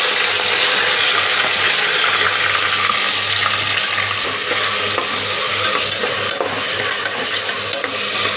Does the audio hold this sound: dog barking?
no